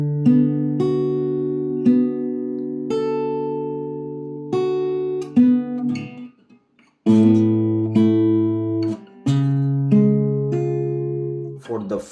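Fingerstyle acoustic guitar plays a line of a song, plucked arpeggiated chords ringing and overlapping with one brief pause midway, close and clear, with no talking over it.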